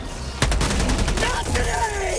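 Gunfire in the video game Helldivers 2: a loud, dense burst of rapid shots with sharp repeated cracks, followed by further firing and whining sci-fi effects, with game noise throughout.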